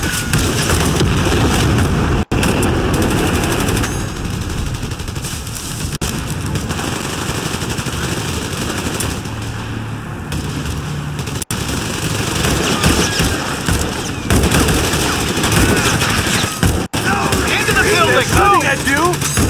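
Gunfire in the Company of Heroes 3 video game, sustained machine-gun bursts and booming blasts layered with engine rumble, loud and dense throughout, with shouted voices mixed into the battle noise.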